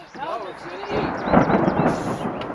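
Thunder from a big lightning bolt in a May spring storm rolls as a broad, loud rumble, with voices talking over it.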